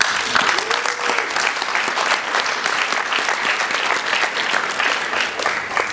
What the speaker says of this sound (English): we can give them a round of applause for that work